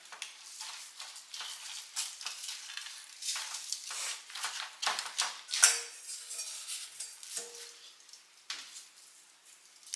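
Chicken pieces for ranch chicken being turned over in a pan, with continuous scraping and clinking of a utensil against the pan over a steady sizzle, close and fairly loud throughout.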